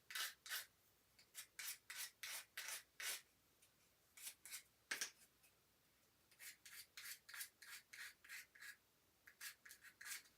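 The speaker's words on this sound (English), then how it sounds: "I'm going to sand that just a little bit too." Rhythmic strokes of hand sanding wood with a little sander, close and quiet, coming in quick back-and-forth bursts separated by short pauses.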